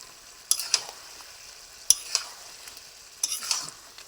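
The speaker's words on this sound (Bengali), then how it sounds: "মাংসটা কষা হইতেছে" Chicken meat sautéing in a pan, with a few sharp scraping stir strokes against the pan over a faint, steady sizzle, close by and alone.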